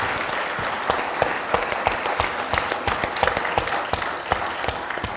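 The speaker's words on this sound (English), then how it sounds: "please give them a large round of applause" Church congregation applauding its staff at an annual meeting, a moderate, fairly sparse clapping with individual hand claps standing out distinctly, continuous and unaccompanied by talk.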